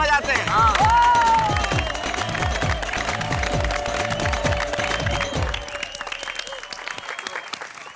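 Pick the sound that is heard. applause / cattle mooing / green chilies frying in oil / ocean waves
applause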